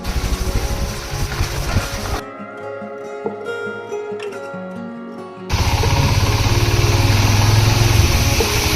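Motorcycles ridden in the rain on a mountain road in Arunachal Pradesh, three bikes carrying six riders; a loud, close, steady engine roar breaks off for a few seconds of quieter tonal music, then returns even louder.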